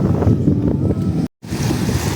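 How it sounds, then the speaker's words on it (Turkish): Strong wind buffets the microphone in a loud, roaring rush, cut by a brief dropout before the gusting resumes. "Çok fazla rüzgar var. Acayip esiyor."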